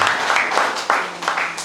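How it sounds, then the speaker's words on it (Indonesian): A church congregation gives brief, steady applause during a worship service, the clapping dense and close and lasting under two seconds. "Mari kita berikan tepuk tangan saudara yang kasih."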